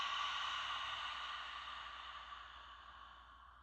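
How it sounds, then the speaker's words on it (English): One long exhalation through an open mouth during a yoga breathing exercise, a soft airy rush that slowly fades over a few seconds, close and quiet. "long exhalation through an open mouth"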